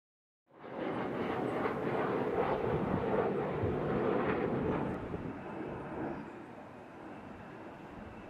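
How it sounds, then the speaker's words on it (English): Planes flying in to a former military base in Puerto Rico, a broad steady roar of aircraft engines that swells loud and holds, then eases slightly while continuing. "these are just planes that are coming in to Venezuela"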